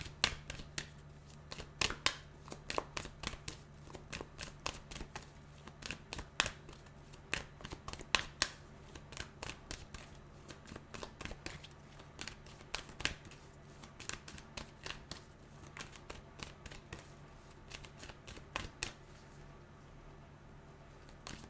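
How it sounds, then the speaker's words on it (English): Tarot cards are shuffled in long continuous runs of quick, crisp riffles and flicks, close and fairly quiet, with no talk over them. "I'm going to pull some cards and just see where this relationship is heading"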